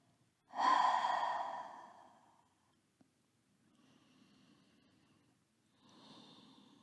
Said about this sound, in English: So could be open mouth exhales here.